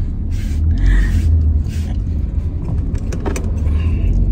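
Car driving, heard from inside the cabin, a steady low road rumble and engine drone with small rattles and jangling noises on top, no speech.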